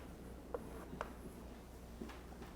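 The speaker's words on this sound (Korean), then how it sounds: "거기다 써볼게요" A pen scratching across paper as notes are written by hand during a law lecture, with faint strokes and a few soft taps over a low room hum.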